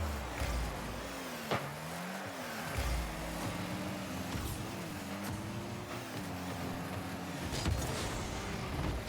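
Rocket League car engine hums and revs through a PC match, with tonal engine whines rising and falling over a busy wash of game noise, sharp boost and impact bursts scattered throughout.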